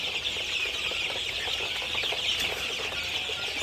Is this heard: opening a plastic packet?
no